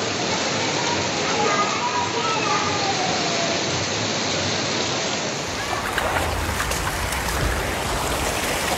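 Heavy rain in Torrevieja, Spain, pours as a dense continuous wash of falling water. A voice speaks faintly underneath, and the sound shifts to a rougher, brighter texture partway through.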